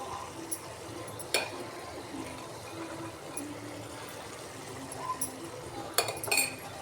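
Spoon clinking against a pot while chili powder goes into a simmering cauliflower curry, a few scattered light metallic taps over a quiet background hiss, close but soft.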